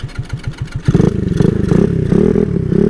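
Honda Ruckus scooter engine, a tuned 70 mph build, first sputtering in a few uneven low pulses, then catching into a steady, loud, close putter that rises and falls a little as it settles near idle.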